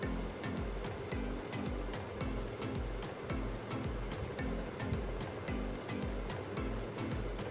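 Potato filling balls dipped in besan batter fry as aloo chop in hot white oil in a kadai, giving a steady, dense, close sizzle that runs unbroken throughout.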